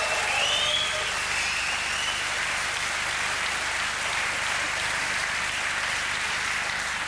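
Steady, distant applause from a large audience for entertainer Harald Juhnke, a dense, even wash of many clapping hands sustained for seven seconds with no voices over it.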